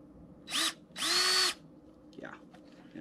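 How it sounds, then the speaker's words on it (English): Power drill boring into a Dana 60 axle part in two bursts, a short one then a longer sustained whine, close and loud, followed by quieter shop noise and faint talk. "I'll drill the other one"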